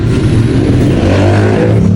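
A 2005 Honda XRM 110 motorcycle engine revs up close by, a loud, rough low drone that swells and holds its pitch, with no talking.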